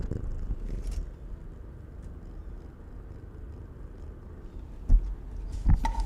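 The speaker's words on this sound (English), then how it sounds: "You can hear her purring." A cat purrs steadily and close in the video game Slay the Princess, a low continuous rumble with a few soft clicks and bumps near the end.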